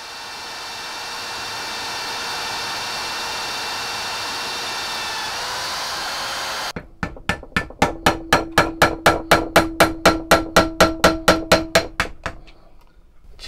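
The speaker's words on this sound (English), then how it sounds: "I think the first thing I'll do is drill the holes." An electric drill whines steadily through metal for an arming sword hilt, then cuts off, followed by about twenty sharp, evenly spaced metallic taps in quick rhythm that ring out close by.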